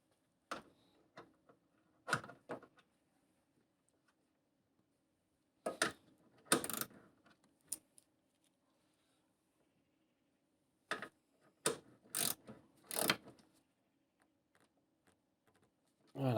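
Hand-tightening an M8 bolt on a Saab 9-3 NG B207 engine mount: a few short, sharp metallic ratcheting bursts separated by quiet pauses, close by, with no talking.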